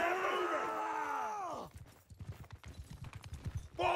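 Horse hoofbeats from Bannerlord multiplayer battle: a steady clip-clop gallop of several rapid thuds, following a loud swelling tonal effect, mid-distance.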